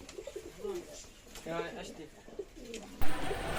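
Pigeons at a pigeon shop in Taherpur market coo in low, rolling repeated calls close by, with a sudden louder burst near the end and a voice talking in the background.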